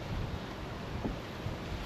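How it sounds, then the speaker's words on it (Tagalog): Strong wind in New Zealand gusting at about 150 km/h, a steady low roaring rush across the microphone with slight surges and no voices. "Malakas ang hangin."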